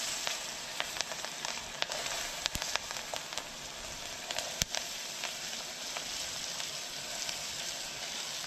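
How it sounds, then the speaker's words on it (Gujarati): Cabbage sizzling in hot tempering oil with turmeric, a dense, steady frying crackle filling the whole stretch with scattered sharp pops, close and alone without speech. "વઘાણી પછી નાખી દઈશું હળદર ને પછી નાખ્યું આપણે આ કોબી"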